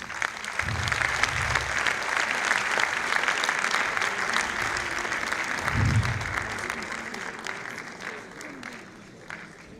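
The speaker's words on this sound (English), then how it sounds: "a big round of applause for our contestants" Applause fills a hall for speech contestants at an evaluation speech contest final, steady and dense for several seconds before thinning toward the end, with a few brief low voices underneath.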